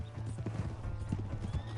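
Horse hooves clip-clop in a steady, rapid rhythm in the video game Red Dead Redemption 2, fairly quiet and set over a low, constant rumble, with no speech.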